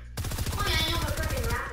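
Rapid-fire gunshots in a video game rattle off in a fast, even burst of punchy cracks lasting under two seconds, loud and close.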